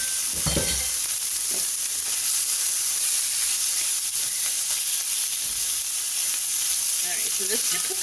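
Thin chicken pieces fry in a very hot oiled pan, giving a bright, continuous sizzle and hiss with occasional stirring scrapes and clatters close by.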